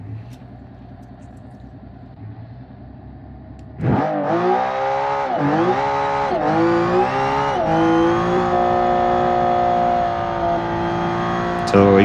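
Widowmaker GT race car built in Automation and driven in BeamNG, a loud engine that revs up sharply after a quieter idle, then climbs and holds a high, strained note with shifting pitch through repeated accelerations.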